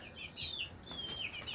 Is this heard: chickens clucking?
yes